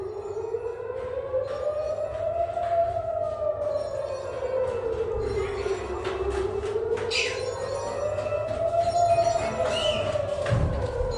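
A Redalert HPSS32 siren blares in a rising and falling wail that sweeps slowly up and down over two long cycles, loud and sustained with faint background noise.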